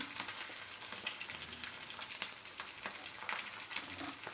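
An egg fries in a pan on one side only, a steady close sizzle with scattered pops and crackles, moderately quiet and without speech.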